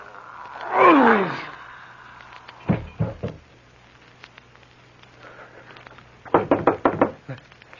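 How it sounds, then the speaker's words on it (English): Knocking on a door in an old radio drama, heard as a few sharp knocks in a short burst, then after a pause a faster, louder run of knocks, close and clear over a faint background hum. "It's the door. Someone there."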